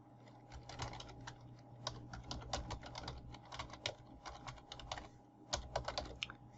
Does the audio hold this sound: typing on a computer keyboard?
yes